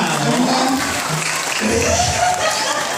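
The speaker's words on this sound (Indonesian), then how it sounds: "Tepuk tangan buat kita semua." Audience applause at a Balinese comedy show, a dense, loud wash of clapping for about three seconds, mixed with faint crowd voices and chatter.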